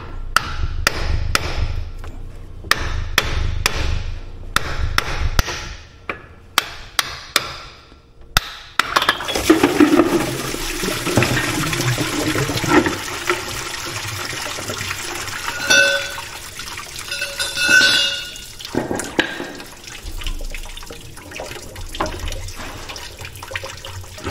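Irregular clanks and knocks on a car water pump give way to a sustained rush of water splashing and pouring out of it, loud and close, with no voices.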